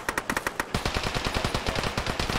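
Rapid automatic gunfire in the military shooter Arma 3, a string of sharp, loud bursts that speed into a dense, continuous rattle, with no voices over it.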